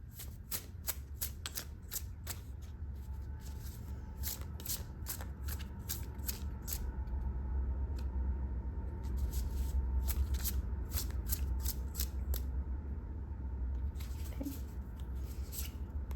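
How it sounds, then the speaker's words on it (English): A deck of tarot cards is shuffled close by, a rapid series of crisp riffling bursts with short pauses between them over a quiet low room hum. "We're gonna pull some just secondary cards, clarifying cards here from a different deck."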